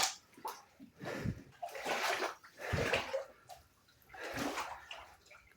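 Water is thrown in splashing bursts across a fire-burned house kitchen, several uneven sloshes and splatters at close range with no talk over them.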